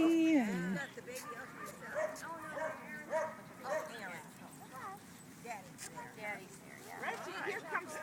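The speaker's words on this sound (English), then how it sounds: "Lots of dogs, huh, Ellie?" Several dogs at a dog park bark, yip and whimper in scattered bursts, moderately close, while a person talks over them.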